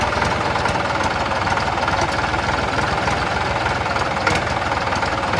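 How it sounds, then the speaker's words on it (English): A small tractor engine runs loud and close, a steady rough chugging with no pauses or talk. "Let's give it a rev."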